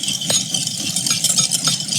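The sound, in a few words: whisking a vegan dressing in a bowl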